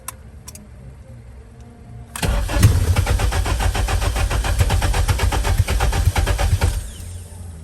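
A BMW E21 fitted with a K24 engine cranks after a quiet lead-in, with a loud, steady rhythmic starter churn running about four seconds before cutting out, close to the car, without speech.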